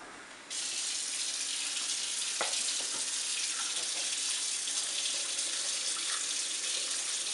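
Water poured from a glass into a cooking pot, a steady close splashing stream that starts abruptly and runs on without pause, with a few faint knocks partway through.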